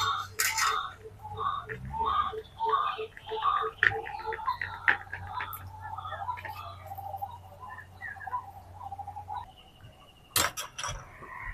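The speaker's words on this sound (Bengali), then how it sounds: "এবার গ্রেটার দিয়ে ভালো করে গ্রেট করে নিচ্ছি" A peeled potato is rubbed against a metal grater in quick rhythmic scraping strokes, close and fairly clear, with small clinks and a faint background hum, followed by a couple of sharper knocks near the end.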